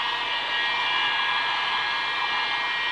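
A hair dryer blows close and loud to dry chalk gesso paint, giving a steady whirring hum with a constant high whine.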